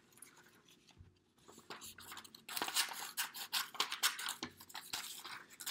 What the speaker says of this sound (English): So if I'm cutting out this square,